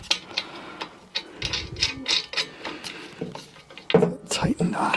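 Small screws being tightened on a little cover, giving a run of quick ratcheting clicks and scrapes at close range, with faint speech in the background.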